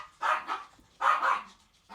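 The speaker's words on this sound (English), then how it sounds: "the dogs are going wild again" Several dogs bark excitedly indoors at home, probably at a mail carrier, in a run of sharp close barks arriving in quick pairs.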